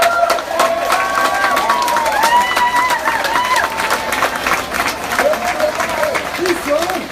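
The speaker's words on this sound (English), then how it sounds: "They got up here and gave some great speeches. Give them a hand." A crowd at a street march for justice for people killed by police claps and cheers steadily for the speakers. The applause is loud and dense throughout, with shouting voices rising above it.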